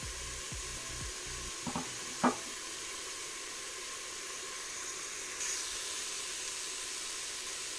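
Lentils frying in a pot for lentil soup, a steady soft sizzle and hiss close by, broken by a few light clinks and stirring knocks near the start.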